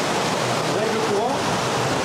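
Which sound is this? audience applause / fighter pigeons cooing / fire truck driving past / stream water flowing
stream water flowing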